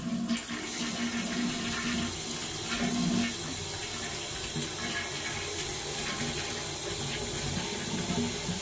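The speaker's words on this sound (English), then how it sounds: "we're trying another toilet flush here to clear that from the line" Toilet flush water rushing through a sewer line during a camera inspection, a steady loud gushing that lasts throughout with no voices.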